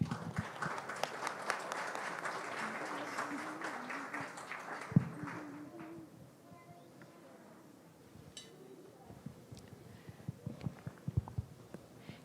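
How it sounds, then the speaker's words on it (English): Applause from an audience at an evening spiritual program for Shri Guru Puja in Canajoharie fills the first half as steady clapping, then thins into scattered claps and faint movement. "Can we give one more round of applause for that?"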